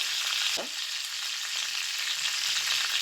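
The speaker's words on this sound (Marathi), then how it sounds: "कांदा परतून छान लालसर झाला की त्यात" Onion sautéing in a pan gives a steady, close sizzle with one brief stirring scrape near the start and a faint clatter of movement after, and nobody speaks.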